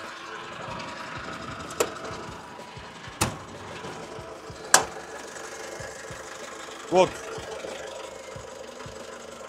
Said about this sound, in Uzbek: Motorini ishlayotgan holatni ko'rib turibsizlar.